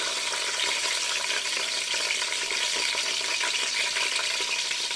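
Bay leaf, cinnamon, cardamom and cloves fry in hot oil for a seeraga samba mutton biryani. A steady, dense sizzle holds close and loud throughout, with faint stirring clinks and no talk.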